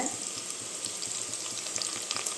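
Curry leaves dropped into hot oil for a chicken biryani, a bright crackling sizzle with quick popping bursts, close and steady through the short stretch, with no speech.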